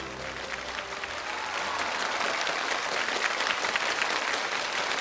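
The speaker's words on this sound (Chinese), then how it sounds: "再次掌声欢迎子睿入场" A studio audience on a Chinese challenge show applauds as a contestant walks on, dense sustained clapping that swells after a soft start and holds steady, with a faint crowd murmur beneath.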